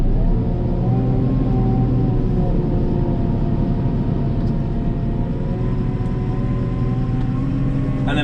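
JCB 541-70 Agri Pro Loadall telehandler engine droning steadily as the machine drives around a yard and eases to a halt, a constant low diesel hum with little change in pitch and no talk.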